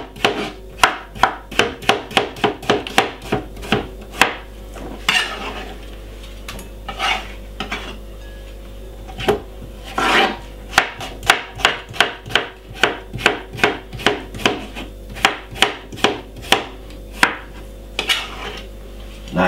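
A kitchen knife chops a cucumber on a cutting board in a juice bar kitchen, a long run of sharp rapid thuds and knocks with brief pauses, close and loud, with no talking.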